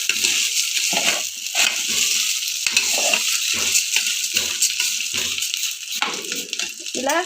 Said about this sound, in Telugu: బాగా ఫ్రై అయిన తర్వాత ఒక 3-4 మినిట్స్ ఇలా ఫ్రై చేసుకోవాలి ఫ్రెండ్స్